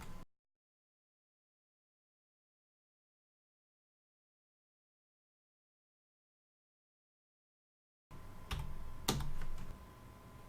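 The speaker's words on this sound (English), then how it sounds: "I'm probably going to mute the keyboard tapping" Computer keyboard typing returns after a long silence, a quick run of close, crisp key taps with one louder clack among them.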